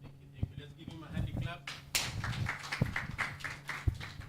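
Scattered applause from an audience at a stakeholders' forensic science bill review, fairly faint and uneven, with a voice speaking over the claps.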